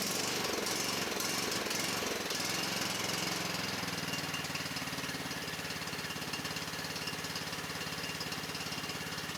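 A Cub Cadet XT1 LT42 Intellipower riding mower's engine runs steadily while warming up, a loud continuous close-up drone with a rapid mechanical chatter, rough and uneven for the first few seconds before settling into an even idle.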